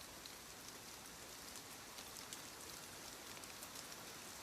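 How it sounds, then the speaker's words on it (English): Steady rain falling on a roof, a soft, even hiss of countless drops with faint scattered patters, quiet and continuous with no voices. "Let the rain keep touching the roof."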